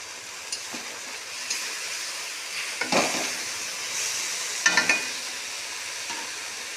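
Small fish frying in a pan for a fish curry, stirred now and then, giving a soft continuous sizzle with a few sharper scrapes of the spatula, close and moderately quiet.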